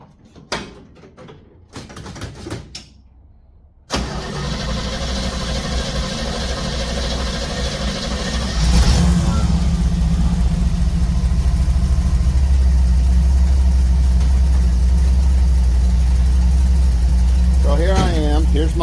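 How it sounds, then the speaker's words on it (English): A Jeep engine cranks, catches and settles into a steady idle inside a garage. Brief clunks come before the start, the rumble grows louder partway through, and someone talks over it. "There's the exhaust right there, chugging away."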